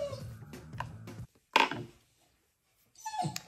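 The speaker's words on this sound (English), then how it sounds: "If you hear any noise in the background, that is my dogs." A voice is heard, then a few short yips and whines from dogs playing, in sparse bursts with quiet gaps between them.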